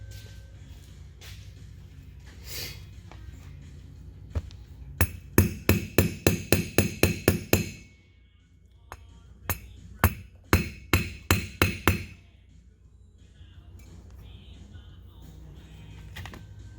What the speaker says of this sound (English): Maybe I need a small hammer or something too to tap that in there.